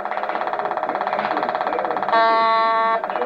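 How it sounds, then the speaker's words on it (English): A vehicle horn sounds in one sustained blast of a bit under a second, over a steady rapid pulsing electronic tone, as in a child's ride-on toy car. "Beep the horn."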